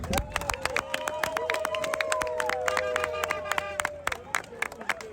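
A crowd at a 2024 End Bad Governance protest in Nigeria claps steadily with scattered loud hand claps, while a tonal hum and background voices carry underneath.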